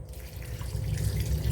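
Water poured into a pan of mango pulissery curry, a close, steady splashing and gurgling that builds slightly louder over its short length, with no talking.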